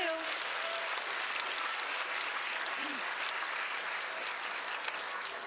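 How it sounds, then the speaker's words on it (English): Steady applause from a crowd at a kindergarten event fills the room with dense, continuous clapping throughout. "let's give you a nice round of applause too"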